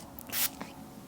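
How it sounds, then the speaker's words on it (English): A single quick hiss of makeup setting spray, close and fairly soft, lasting under a second against quiet room tone. "This is just my very favorite setting spray."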